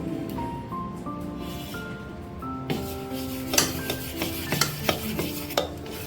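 Dosa batter is stirred in a bowl while water is mixed in, giving close scraping and clinking strokes in an irregular rhythm, with a rising pouring tone at the start and no talk.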